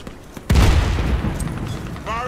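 A loud, close boom in the Warface video game, probably a grenade going off, is followed by a dense rumbling wash of gunfire and debris that slowly fades over two seconds.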